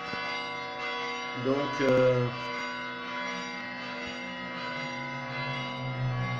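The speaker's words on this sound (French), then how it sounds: "écoutez bien les cloches, parce que là je suis en alerte" In a video game, church bells ring a steady, tonal alarm, and the sustained peal carries on throughout while someone briefly speaks over it.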